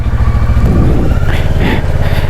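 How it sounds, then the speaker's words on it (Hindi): A fully loaded motorcycle on the mountain road up to Khardung La near Leh runs with a loud, close, throbbing low engine rumble throughout, mixed with some speech. "Fully loaded bike."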